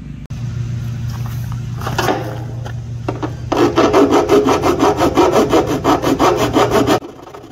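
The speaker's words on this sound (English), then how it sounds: "Alright, got it all filed down. Got the surface all cleaned up." A hand file rasps back and forth over the metal surface of a fuel sending unit on a 1987 Freightliner cabover truck, starting slow and broken, then settling into a fast, steady run of close, loud strokes over a low hum.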